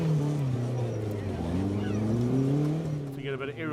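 A 4x4 off-road vehicle's engine revs hard and drones at changing pitch while it climbs at an extreme off-road challenge event in Steineck. The engine is loud and close, and a brief mechanical rattle comes near the end.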